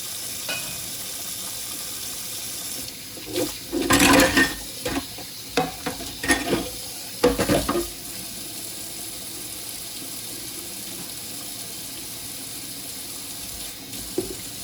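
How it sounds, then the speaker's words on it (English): Tap water running steadily into a kitchen sink while dishes are washed, a constant close hiss broken by clusters of louder splashing and clattering midway, then settling back to the plain flow. "And now I'm washing my dishes"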